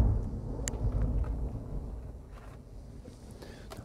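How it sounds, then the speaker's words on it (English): A low rumble of distant thunder from a thunderstorm with no rain falling, a sustained deep roll that slowly fades, with faint outdoor noise and a few light clicks nearby. "That's some thunderstorm."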